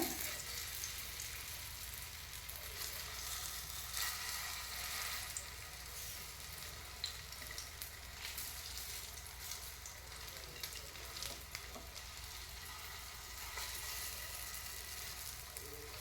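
Ragda patties frying in a pan, a continuous crackling sizzle of oil that stays even and fairly quiet throughout with no one talking.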